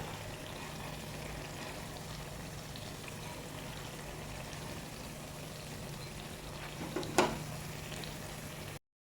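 Unniyappam frying in oil, a soft continuous bubbling sizzle at low level, with a brief louder clatter near the end, with no talking.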